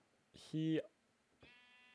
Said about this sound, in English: Oh, there's a little sheep coming in my home.